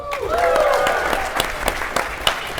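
Audience applause at a PAX West 2016 gaming panel celebrating Rise of the Tomb Raider, a steady crowd clapping with scattered louder claps and a cheer-like tone early on, under the hall's ambience.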